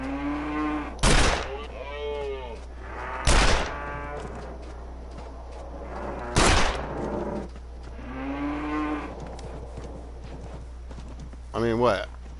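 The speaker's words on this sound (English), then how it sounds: "I'm just going to shoot this fool." Gunshots in The Long Dark, wilderness survival setting near Mystery Lake: four loud, sharp, widely spaced blasts, each followed by a voice talking between them.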